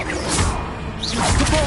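A wand spell fired in the Hogwarts Legacy game, a short whooshing swish followed by a sharp crackling hit, loud and close in a brief burst of game effects.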